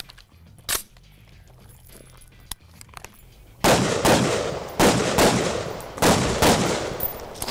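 A Stag Arms Model 3T tactical rifle fired outdoors, a handful of loud, sharp cracks with echoing tails, the first few faint and distant, then four heavy shots spaced about a second apart.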